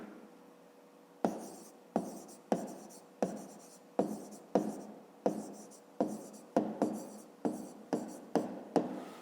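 Handwriting an answer on paper, a run of sharp pen strokes in a fairly regular rhythm, close and quiet, with a voice speaking in the background.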